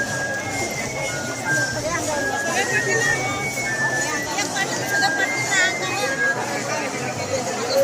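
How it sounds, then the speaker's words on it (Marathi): A huge crowd of pilgrims at Pandharpur fills the air with a dense, continuous babble of many voices, close and steady, with occasional higher calls and tones poking through. "खूपच गर्दी आहे यावर्षी."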